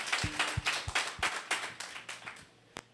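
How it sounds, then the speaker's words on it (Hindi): Hands clap at a gold company seminar in Banswada, Rajasthan, after a call to honour the founder chairman, sounding as a sparse, uneven run of about nine distinct claps tapering off, with one sharp final clap. "जोरदार ताली चाहूँगा"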